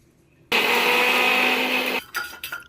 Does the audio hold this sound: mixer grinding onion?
yes